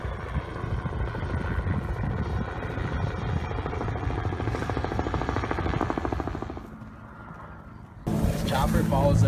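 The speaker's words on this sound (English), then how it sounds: "Chopper follows us the whole way here." A helicopter flies over a protest camp, its steady rotor drone filling the clip with rhythmic chopping, dipping briefly before loud wind or handling noise near the end.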